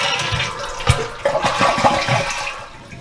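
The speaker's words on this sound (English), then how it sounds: "then I'm going to flush the toilet again so that we can empty the tank" A household toilet flushing with its water supply shut off so the tank empties, a sharp onset followed by a rushing, gurgling drain that tapers toward the end, close by and fairly loud.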